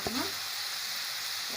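Minced meat frying in a pan with onion: a brief sharp sizzle as the meat goes in, then a steady, soft crackle of frying, with no talking.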